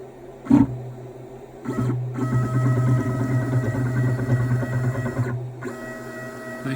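Stepper motor mechanism lowering, a loud buzzing, whining drone with a steady tone that runs for several seconds between brief pauses, close by with no talk.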